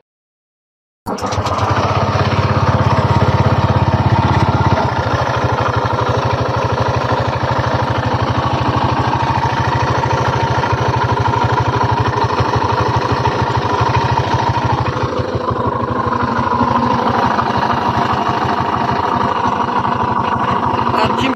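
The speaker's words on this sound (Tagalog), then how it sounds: "kailangan parinig ko na sa inyo ang unang tunog ng kanyang makina" A Honda Click 125 scooter engine with a worn side bearing runs steadily and loudly the whole time, with a rough, low-pitched drone and a rapid rattling beat, close by and alone.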